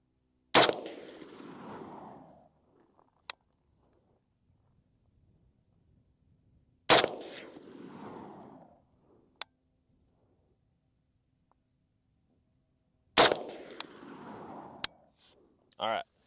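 A Springfield M1A rifle fires three single sharp, loud gunshots about six seconds apart outdoors, each crack trailing off in a rolling echo, with a few faint clicks between shots.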